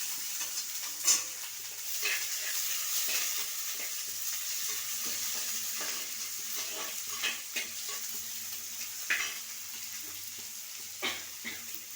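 Chopped onions and bell pepper sizzle steadily in a hot pan, with a spoon scraping and tapping now and then as they are stirred.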